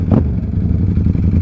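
Yamaha R7 motorcycle engine, a loud close low throbbing rumble with an uneven pulsing beat, idling or revving gently throughout with no talk.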